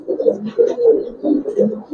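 A male Giribaz pigeon coos close by in a steady run of low, throaty, rolling calls that swell and fade in short repeated phrases with no pause.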